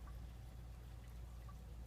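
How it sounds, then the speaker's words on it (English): Water drains steadily from two open outdoor outlets, a soft continuous pouring and trickling hiss heard at a distance with no voices over it. "I've got two outlets open outside, draining water out"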